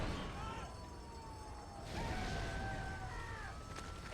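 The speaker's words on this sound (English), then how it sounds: "There's a lot of alarms, sirens going off." Wailing sirens and alarms sound in a zombie-apocalypse scene from the Resident Evil 3 Nemesis video game, with rising and falling tones over a low, rumbling din of chaos.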